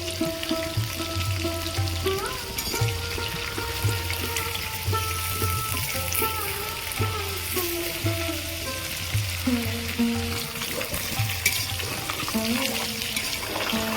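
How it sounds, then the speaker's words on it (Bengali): Potatoes sprinkled with turmeric fry in oil left over from browning onions for a Bengali-style chicken curry, making a steady, dense sizzle throughout, close and even, with a faint hum underneath. "আলুগুলো ভেজে নেব আলুর মধ্যে অল্প একটু হলুদ গুঁড়ো দেবো"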